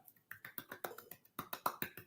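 A slow, quiet golf clap from a single person, about a dozen soft, evenly spaced claps with a short pause partway through.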